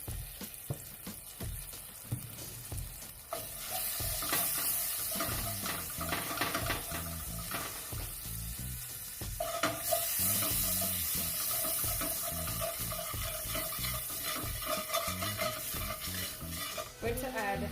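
Jamaican Choice curry powder stirred and frying in butter in a pan: steady sizzling with scraping spoon strokes and clattering utensil sounds throughout, close and fairly loud.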